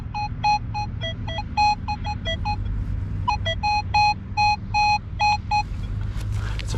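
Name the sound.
metal detector tone over shallow zinc penny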